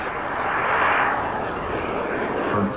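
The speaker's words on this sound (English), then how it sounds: "The SWB turbine was designed and built by Jeff Seymour, and the fuel it burns is kerosene" A Yellow Aircraft plane powered by a kerosene-burning SWB turbine engine passes at speed during a 1994 Tournament of Champions air race, a loud, steady whooshing roar that rises and eases as it goes by.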